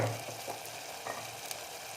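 Spices sizzle and fry in a pan with tomato masala for a brinjal tamarind curry, a steady soft crackle with a faint stir or two, alone and without talk.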